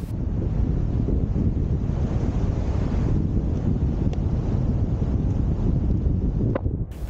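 Strong wind roars across the microphone with a broad, steady rush over surf breaking against rock armour groynes on the shore at Borth, continuous and loud with no voices.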